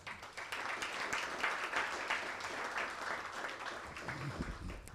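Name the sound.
audience applause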